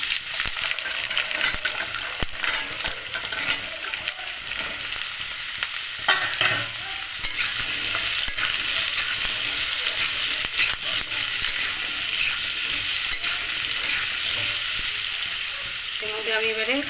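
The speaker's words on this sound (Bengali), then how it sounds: "আমি এবারে এর মধ্যে আলুগুলো দিয়ে দিচ্ছি।" Potatoes fry in oil in a pan for a white potato curry, hissing in a loud, continuous sizzle close by, with occasional clinks and scrapes of stirring throughout.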